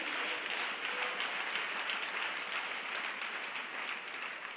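A church audience claps together during a worship sermon, a steady dense patter of many hands sustained at even loudness for several seconds with no talk over it.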